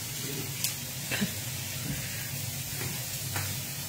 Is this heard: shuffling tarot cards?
no